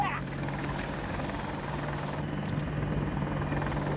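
A helicopter in the Battlefield 2042 video game gives off a steady, close, whirring rotor drone that runs the whole way through under faint background game noise.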